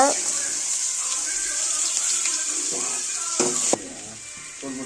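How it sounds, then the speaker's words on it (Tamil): Onions sautéing in hot oil for egg curry, a steady close sizzle with the clatter of a spatula stirring toward the end, before the hiss suddenly drops off. "இப்போ வெங்காயம் போட்டு நல்லா வதக்கிக்கோங்க"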